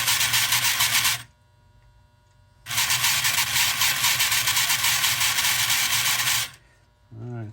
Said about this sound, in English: we got that motor to turn a little bit